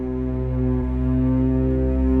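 A pitch shifter effect in Logic Pro X with an LFO modulating the pitch, giving a sustained, droning synthetic tone with steady harmonics and slight wavering, loud and continuous throughout with no voices.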